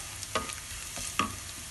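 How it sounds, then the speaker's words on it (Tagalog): Garlic frying until browned in a pan, a soft steady sizzle with two quick stirring scrapes, close by and without talk. "Bawang. Hanggang sa medyo mag-brown-brown siya."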